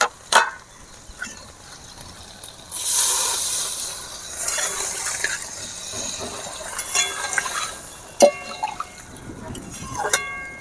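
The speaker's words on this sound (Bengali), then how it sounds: "অল্প জল দেব।" Water is poured into a pan of cooking vegetables, including green chillies and carrots, for Bengali shukto, giving a few seconds of broad hissing splash followed by sizzling and clinks of a utensil against the pot.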